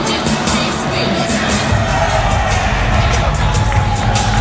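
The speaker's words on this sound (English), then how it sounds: "Yeah, the crowd's already behind Sierra." A crowd at a women's wrestling match cheers and shouts loudly and continuously, with whoops and high voices rising out of a thick roar of noise.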